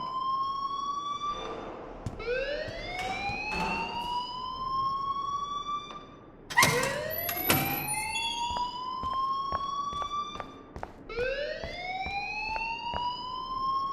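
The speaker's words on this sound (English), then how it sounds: "please turn off that alarm since that's your job" An alarm wails in the Life Is Strange video game, rising in repeated siren-like sweeps that climb and hold, loud and continuous, with a few sharp knocks and clatters mixed in and no speech.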